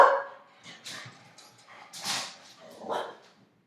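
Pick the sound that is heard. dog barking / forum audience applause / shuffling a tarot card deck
dog barking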